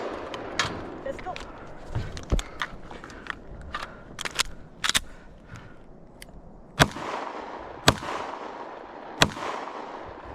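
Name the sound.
Wolf T91 rifle gunfire in a video game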